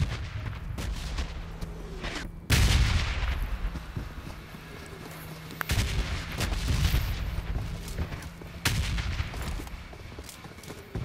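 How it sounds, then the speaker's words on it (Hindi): Bombs bursting in the red zone of the PUBG video game, a series of heavy booming blasts with rumbling tails, each loud impact followed by scattered crackling, spaced a few seconds apart, no talk. "बम फूट रहे हैं"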